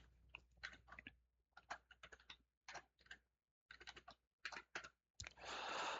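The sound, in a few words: typing a password on a computer keyboard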